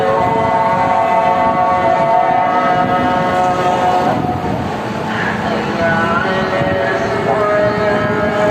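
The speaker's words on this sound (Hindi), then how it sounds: "ये फायर ब्रिगेड आ गई है।" A fire brigade siren wails continuously as the engine arrives at the burning Jang/Geo building, loud and steady amid street noise, with people talking over it.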